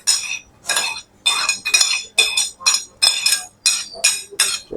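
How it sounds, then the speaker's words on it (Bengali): Salad ingredients tipped into a bowl, a run of about ten bright clattering, clinking bursts in quick succession, close and fairly loud, with no speech. "এগুলোরে আমি একটা পাত্রে ঢেলে দিলাম"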